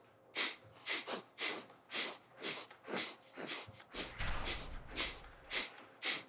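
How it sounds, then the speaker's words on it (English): Rapid, forceful nasal breaths of Kundalini breath of fire pulse in a steady rhythm, about two per second, close and fairly quiet, with no talking. "Now we're going to go into more of the Kundalini breath of fire, which is through the nose."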